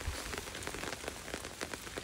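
Steady rain falls during a hike out of Duncannon, Pennsylvania, a dense, even patter of drops on nearby surfaces that continues without break and with no speech.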